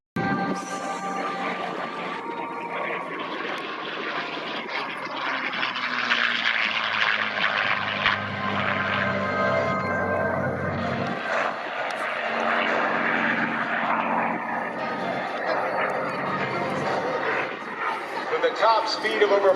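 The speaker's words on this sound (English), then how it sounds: "the Mustang was the most aerodynamically perfect pursuit plane in existence" A P-51 Mustang propeller fighter plane drones loudly and continuously overhead at an airshow, its engine tone shifting as it passes, with a narrator talking over it.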